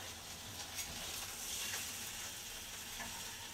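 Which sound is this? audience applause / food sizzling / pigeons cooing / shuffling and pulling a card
food sizzling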